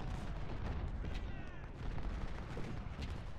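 Musket volley in the Civil War strategy game Ultimate General: Civil War at the Battle of Chancellorsville, a dense crackle of many rifles firing together, sustained and fairly distant across the whole stretch, with no speech over it.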